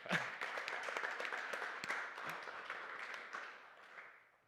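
A church congregation applauds softly, a faint diffuse patter of many hands spread evenly through the space, tapering off toward the end with no talk over it.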